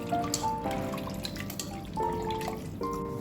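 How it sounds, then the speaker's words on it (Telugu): Water splashes and drips while raw chicken is washed in a kitchen, with close, uneven trickling and bubbling sounds in short bursts. "ఫస్ట్ చికెన్ని బాగా కడగాలి."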